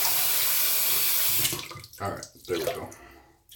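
Tap water gushing into a bathroom sink while being warmed up, a loud continuous splashing rush that breaks into irregular bursts as hands or objects move under the stream, with someone speaking briefly near the end.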